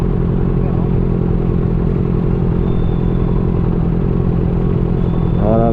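Big bike motorcycle engine on a road in General Trias, Cavite, a loud, dense rumble that holds steady throughout and rises slightly in pitch near the end, close by.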